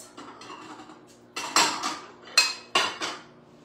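Dishes clink and clatter in a home kitchen as a dish is grabbed, with several sharp ceramic knocks and rattles spaced over a few seconds, close by and with no talking.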